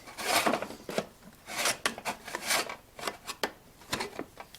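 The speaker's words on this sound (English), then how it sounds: "we are going to open up the old can o' Bondo" Can of Bondo body filler being opened during rust repair on a Volvo 142, with a run of close scraping, rasping and prying sounds in short bursts as the lid is worked loose, no talking.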